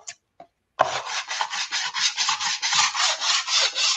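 Hand sanding across a paper collage artwork, a close, loud, rhythmic series of rasping back-and-forth strokes heard alone after a couple of brief scuffs.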